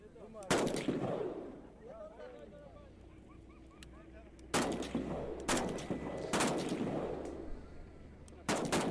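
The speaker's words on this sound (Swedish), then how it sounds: "Då kommer ni få prova att skjuta med våra vapen. Ett skott mot tavlan." Sharp rifle shots at a shooting range ring out, one early and a cluster of three or four later, each loud and abrupt with a short echoing tail, over background chatter.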